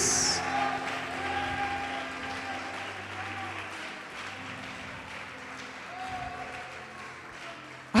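A church congregation applauds in praise during a sermon, a moderately loud, even spread of clapping and crowd noise that carries steadily throughout with little change in level.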